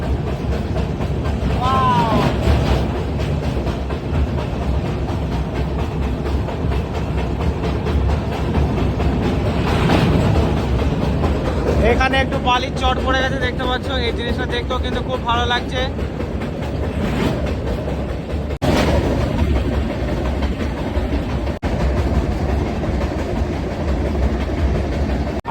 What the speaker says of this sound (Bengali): গোদাবরী নদীর উপর দিয়ে যাচ্ছি আর ফুল ট্রেনটা কিন্তু ব্রিজের ওপরেই আছে